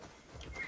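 A horse in a video game gives a brief neigh over a soft patter of hooves, short and fairly quiet.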